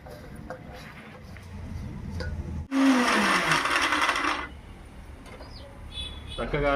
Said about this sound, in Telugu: శనగపప్పు మిక్సీ పట్టుకుని పక్కన పెట్టుకుందాం